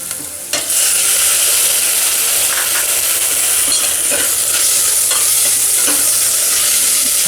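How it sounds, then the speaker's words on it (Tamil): Chopped tomatoes and onion fry in a pan for karunai kizhangu (elephant yam) sambar, a loud continuous sizzle with stirring scrapes throughout and no talk. "தக்காளி நல்லா வதங்கட்டும்."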